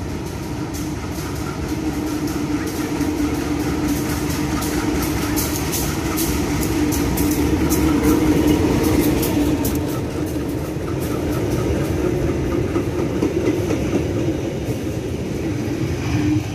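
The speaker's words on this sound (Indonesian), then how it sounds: "kereta dengan melintas langsung" A train rumbles steadily past at close range through Cikini station, a continuous heavy roar with rapid rhythmic rattling of wheels throughout.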